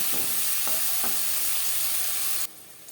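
Eggplant sizzles steadily in hot oil in a pan, a continuous close frying hiss with a few stir clicks, ending abruptly as the sizzle drops away near the end.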